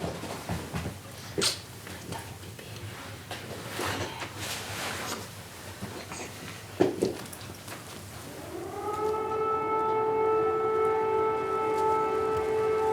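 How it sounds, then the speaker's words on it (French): A civil defense siren in wartime Ukraine rises from about 8.5 seconds into a steady, sustained wail that holds to the end, following a stretch of scattered ambient noises and faint dog-like sounds. "Ces sirènes, ça me fait peur. Très peur."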